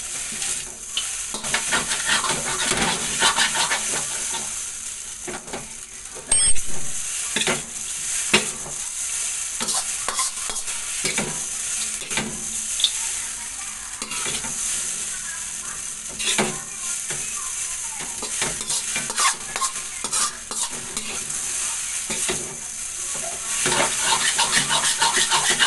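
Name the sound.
chow mein stir-frying in a pan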